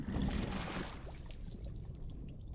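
A game character wades into water, giving a faint, soft splashing and sloshing that trickles on for a couple of seconds with no talk over it.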